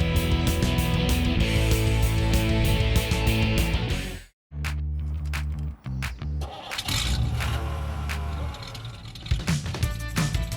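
A 1952 Oldsmobile Super 88 with a 303-cubic-inch Rocket V8 runs loud and rough, cuts out briefly, then cranks and catches again into a steady idle with some revving, a voice faintly underneath.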